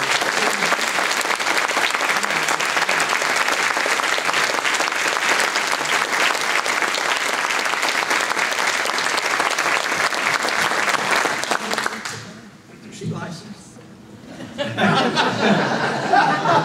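An audience applauds to welcome a newly married couple, sustained loud clapping from a full room for about twelve seconds, with a few chuckles, then fading briefly before clapping resumes.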